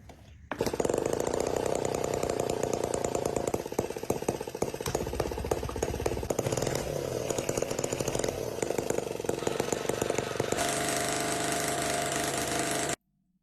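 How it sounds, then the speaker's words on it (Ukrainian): A small single-cylinder motor catches and then runs at a loud, buzzing, rough pitch that stays steady for about ten seconds before cutting off abruptly, with no voices over it. "А, це маленькі одноциліндрові мотори. Такі як наш. Він зараз заведеться."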